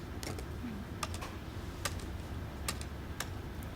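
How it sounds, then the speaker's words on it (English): Several sharp, irregular keystrokes clack on a computer keyboard at a conference presentation, close and isolated against a quiet room hum, with no talking. "You can use the keyboard, please."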